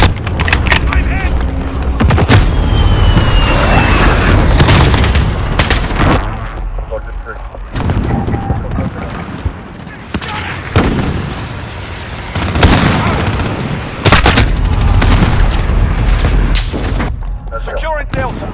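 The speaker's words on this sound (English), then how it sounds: "Be advised, friendly precision airstrike inbound." Precision airstrike explosions in a multiplayer shooter game, loud booming blasts and bursts layered with dense gunfire throughout, heavy and close, with voices and radio callouts over the din.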